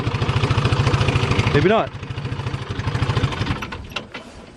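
An old 1960s Pettibone machine's engine chugs with a steady pulsing beat, and its pitch swoops as the throttle is worked before settling lower, while someone talks over it.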